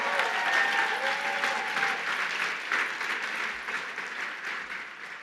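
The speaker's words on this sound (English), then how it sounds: "Let's give them a round of applause." Audience at the Human Rights Campaign Greater New York gala applauding, a dense sustained wash of clapping from a large crowd that gradually softens over several seconds.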